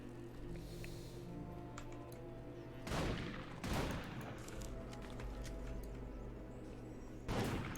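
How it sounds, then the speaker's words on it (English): Gunshots while hunting animals in the Black Desert Online video game: three sharp, loud shots spaced several seconds apart over a steady hum of game ambience and music, no voices. "Shooting animals from behind gets you the most damage, apparently."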